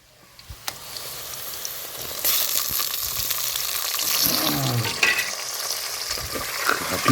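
Onions, green chillies and tomatoes fry in a village-style pan, a bright sizzle that swells as the tomatoes go in, with scraping stirs and a few clinks in between.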